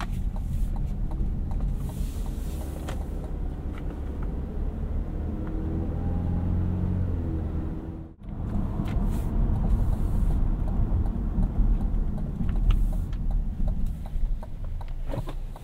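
Steady low road rumble and tire hum inside a 2021 Cadillac CT5 Luxury cruising on an oil-and-chip road surface, continuous and moderately loud with a brief dip partway through, no talking.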